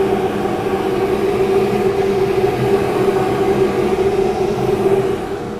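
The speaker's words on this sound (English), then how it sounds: "I just go until I have a consistent sound throughout the whole dress there" Steady, even grinding hum as the wheel of a Blademaster skate sharpening machine is dressed, a constant tone holding at the same level from start to finish.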